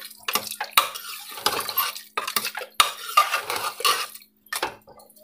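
Metal utensil scraping and clanking against a pot as carrot and mutton curry is stirred, in irregular bursts with short pauses, close up and fairly loud.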